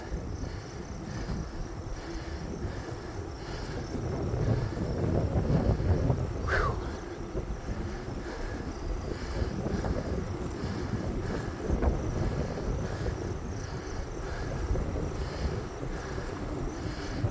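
A headwind blows against a cyclist climbing a long hill on a road bike ride, producing a continuous loud rushing buffet of wind noise on the microphone that gusts harder in the middle, with no clear talking.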